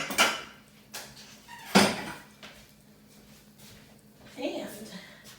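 Someone grabs a plate in a kitchen, giving a few sharp ceramic clatters and knocks spaced apart, with a cupboard-like bump and quieter handling noises between them.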